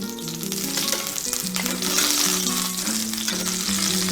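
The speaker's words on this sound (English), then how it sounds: "I'm going to start basting the top of our salmon for about 30 seconds" Salmon fries skin side down in hot oil in a pan while the top is basted, giving a steady loud sizzle and crackle with faint scraping. No talking.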